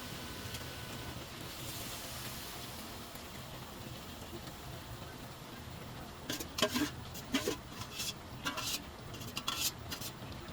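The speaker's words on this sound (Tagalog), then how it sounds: "Haluin lang siya ng ganyan para ang kanyang pagkaluto is even" Jackfruit simmering in coconut milk in a pot, stirred with a spoon that gives several soft scrapes and knocks against the pot in the second half, over a steady low background hiss.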